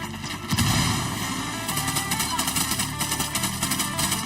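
Gunfire and explosions in the video game Ghost Recon Wildlands, with a heavy boom followed by rapid bursts of shots, loud and dense, and voices faintly mixed in.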